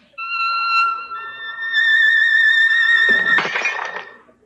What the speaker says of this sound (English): The glass shatters across the room.